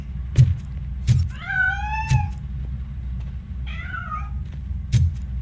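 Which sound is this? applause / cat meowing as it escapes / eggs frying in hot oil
cat meowing as it escapes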